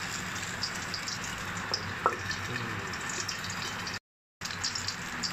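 Milkfish sizzles in hot oil inside a covered pan, a steady hissing crackle with a few sharper pops, holding at an even level apart from a brief dropout near the end.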